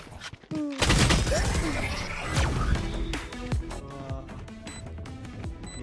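Gunfire in a team shooter video game: a loud burst of rapid shots opens, followed by scattered cracks, thuds and ringing impact sounds, with scattered game effects continuing underneath.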